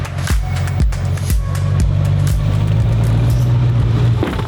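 A Bentley GT3 race car pulling away in drive, with a loud low engine rumble and deep thumping pulses early on, then a steadier droning hum close by.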